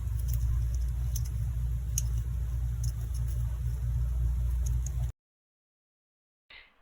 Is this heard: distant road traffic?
yes